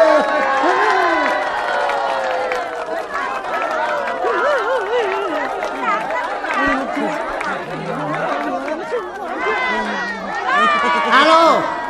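A crowd at a comedy pageant show cheers, chatters and claps continuously, with lively whoops and voices mixed in throughout.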